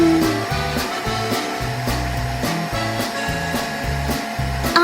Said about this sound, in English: The vacuum moves around the room as if taking a walk.